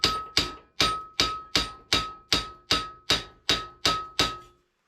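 Metal tapping hammer flattening a curled-over metal edge on a metal bandsaw in a workshop: eleven loud, evenly spaced ringing clangs in a steady rhythm, each decaying briefly, close and alone.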